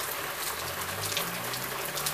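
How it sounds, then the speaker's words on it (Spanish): Steady rain falling in Tijuana, a dense, even hiss of drops with a low rumble underneath, continuous and uninterrupted, with no voices. "Lluvia en Tijuana, todo dar."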